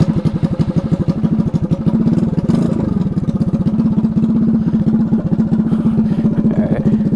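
Drag scooter engine idling close by, a loud, rough, lumpy rhythmic putter with clattering mechanical thumps, running steadily throughout on a hot day.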